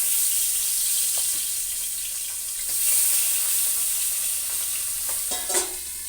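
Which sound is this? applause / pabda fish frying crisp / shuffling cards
pabda fish frying crisp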